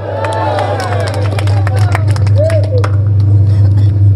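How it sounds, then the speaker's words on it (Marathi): At a political rally in Maharashtra, a crowd breaks into loud, rapid clapping while a voice calls out over it, all above a steady low electrical hum from the PA. "येते की नाही जोरात सांगा टाळ्या वाजून"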